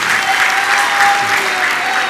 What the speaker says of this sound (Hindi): तुम लोग तालियां बजा रहे हो